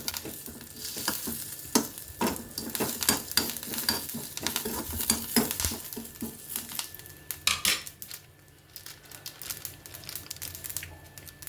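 Curry leaves and garlic crackle and sizzle in hot oil for a raw mango chutney, with bursts of spattering and clinks of a spoon against the pan, close up, fading to a gentler fry toward the end.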